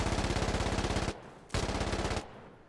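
Automatic gunfire in the shooter game Insurgency: Sandstorm, rapid loud bursts laid down as covering fire, a long burst, a brief pause, then a second burst before fading to quiet.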